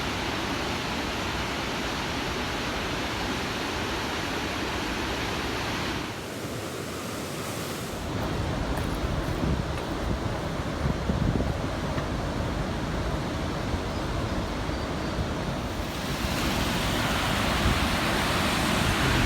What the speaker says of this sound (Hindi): और ये सरस्वती नदी का उफनता हुआ जल आप देख रहे हो।